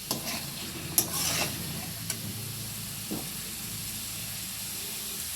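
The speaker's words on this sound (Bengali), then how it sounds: "এবারে জল ঢেলে দেবো এর মধ্যে।" A pan of ghugni with potato and chickpeas gets water poured in and stirred, giving a sizzling, steamy hiss with a few scraping clinks, fairly faint and steady, with no voices.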